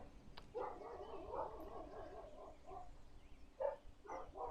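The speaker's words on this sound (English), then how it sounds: "dogs barking like crazy" Several dogs bark in quick yapping bursts at a distance, faint and steady, with a brief pause before a few final barks.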